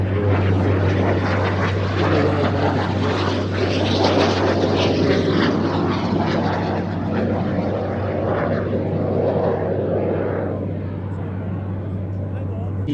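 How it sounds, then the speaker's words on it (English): Propeller aircraft taking off at the Midlands Air Festival, its engine droning loud and steady as it rolls and climbs, easing slightly toward the end, with a commentator talking over it. "There we go, starting to roll, and airborne in just a few feet"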